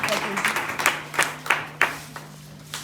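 A church congregation breaks into applause and acclaim for the Lord, several sharp claps ringing out over a steady hum and voices.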